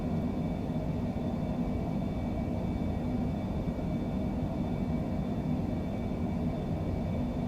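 Airliner takeoff roll in Microsoft Flight Simulator, a steady loud engine roar and rumble that holds even throughout without pauses or voices.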